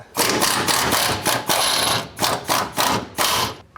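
A ratchet turns a 21mm socket on a truck's shock absorber bolt, giving bursts of rapid clicking in about eight repeated strokes, close and loud with short pauses between pulls.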